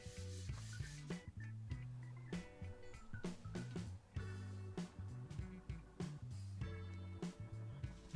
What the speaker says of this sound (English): I buffed off all of the excess wax until it had a nice sheen